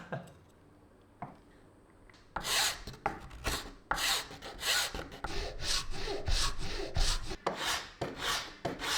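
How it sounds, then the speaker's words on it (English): A hand file rasps over the edge of a sawn wooden circle, starting after a quiet moment, then steady rhythmic back-and-forth strokes, close and fairly loud, with no talking. "I could then use the file to then smooth out that circle"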